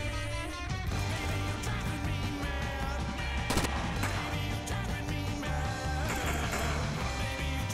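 Unsuppressed gunfire in the video game Rainbow Six Vegas 2, MP7 in use, loud shots crackling over a dense layer of game music and effects, with one sharp burst standing out near the middle.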